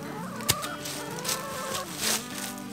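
Homestead chickens clucking and murmuring nearby in a steady low chorus, with one sharp brief noise near the start and a louder squawk later, no talking.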